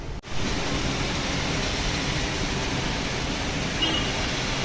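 Steady, dense downpour of heavy monsoon-style rain outside a hospital in Chandrapur, a constant broadband roar with no let-up; a brief knock near the start.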